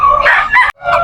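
A gamefowl rooster crows loudly and close at a pet market in Bocaue, one strained, harsh cock-a-doodle-doo broken by a brief pause, then resuming.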